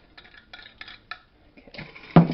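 Metal kitchen utensils clatter and clink as someone rummages through a drawer for a whisk while making cinnamon rolls, a series of close, bright jangles ending in a louder clunk.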